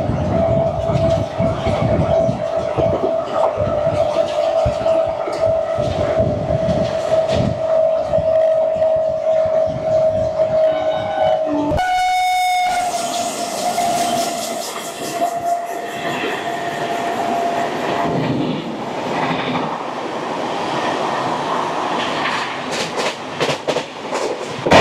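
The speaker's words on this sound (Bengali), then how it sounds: "দুটো ট্রেন একসাথে ছুটে চলেছে।" Two trains, one of them the 18409 Shalimar–Puri Sri Jagannath Express, cross side by side at speed, giving a loud continuous rumble with clickety-clack and a sustained horn blast in the first half, then a brief burst of sharp horn tones.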